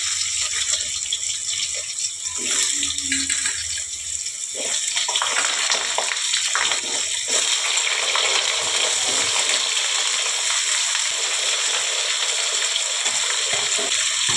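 Potatoes drop into hot oil seasoned with panch phoron, bay leaf and dried red chillies, setting off a loud, steady, hissing sizzle that runs without a break and stays close throughout.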